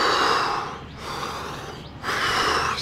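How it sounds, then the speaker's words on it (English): Deep, forceful breaths during a beginner calisthenics upper-body workout: a loud, airy inhale-exhale pattern with two clear breaths, each ending in a short pause. "I'm breathing quite deeply now."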